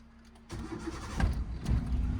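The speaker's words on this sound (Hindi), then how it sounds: "अब इंजन ऑन करो।" A car engine starting on an uphill slope, with the clutch and brake held down: a quiet hum, then a sudden burst into a steady rumbling idle, close and moderately loud.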